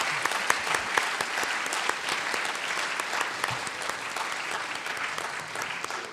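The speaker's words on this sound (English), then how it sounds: "Let's give them a round of applause." Steady applause from an audience thanking a panel of experts at an event, dense clapping holding at an even level for the full stretch with no speech over it.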